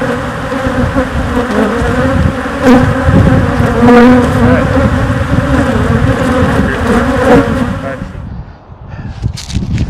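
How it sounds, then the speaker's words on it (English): A dense, loud drone of many honey bees buzzing close by around a hive box, steady for several seconds before thinning out as wind noise gusts in. "There were so many bees in that box."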